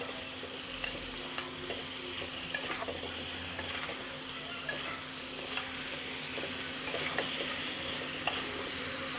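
Meat and potatoes with spices sizzle in a pan while being stirred, giving a steady frying hiss with scattered scraping and clinking of the utensil against the pan, close and without talk.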